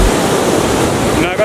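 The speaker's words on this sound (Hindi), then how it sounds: "काफ़ी ऊपर से पानी गिर रहा है यहाँ पे" Naga waterfall in North Sikkim, water plunging from a great height beside an old iron bridge, gives a loud, steady broadband roar that fills the whole clip without a break.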